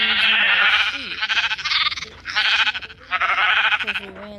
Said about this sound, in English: I'm gonna spawn more in because we ran low on sheep